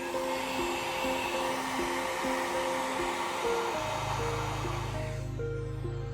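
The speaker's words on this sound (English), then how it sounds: "warm up the surface of the display with a regular hairdryer" A regular hairdryer warms the display of an Apple Watch Series 3. Its steady airy drone switches on partway through, runs loud and close over soft background tones, then cuts off near the end.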